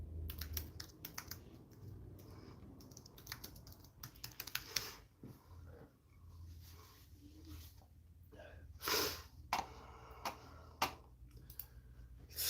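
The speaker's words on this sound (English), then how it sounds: "It doesn't register half my keystrokes." Fingers type on a computer keyboard, producing quiet, irregular bursts of clicking keystrokes close by, with a few sharper taps and no speech.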